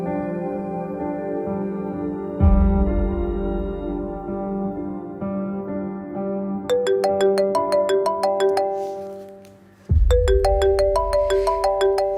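A phone ringtone plays loudly and alone as a call is placed from home: a sustained tonal melody gives way to a repeating chime pattern of bright pulses, cutting off briefly before resuming.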